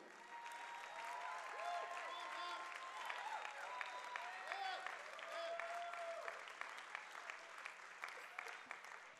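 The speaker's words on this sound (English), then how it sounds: "Keep on clapping" Congregation clapping at a Palm Sunday church service, a dense sustained wash of applause with voices calling out over it throughout.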